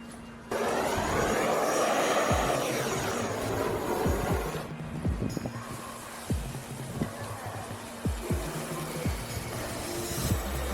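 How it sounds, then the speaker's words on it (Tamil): Rolled strip of lithium battery cells set alight and burning fiercely, a loud continuous roaring hiss with crackling pops and sharp spitting bursts scattered through the second half. "இது பயங்கரமாக பற்றி நெறியுது"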